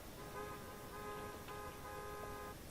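A car horn in GTA San Andreas honks repeatedly in short steady toots over a constant hiss of background noise.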